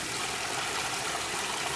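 A small waterfall near a hiking trail makes a continuous, even rush of moving water, moderately loud and steady, with no voices over it.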